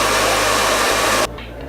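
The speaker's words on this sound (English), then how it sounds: "I'm gonna use my hairdryer to quicken up the process" A hair dryer on its cold setting blows steadily and close by to dry Araldite glue, a loud continuous whoosh that cuts off abruptly near the end, leaving faint background.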